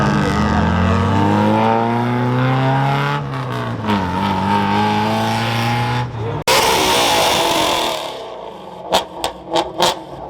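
Cars pull out of a Fourth of July car meet, engines loud and close with rising and falling revs as they accelerate away, followed by a burst of noise and short sharp sounds, with faint crowd voices around.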